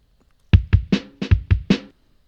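Electric bass played through the Guitar Rig 5 Bass Pro amp with the mids cut slightly, a run of six or seven deep plucked notes in quick succession, close and solo with no voice.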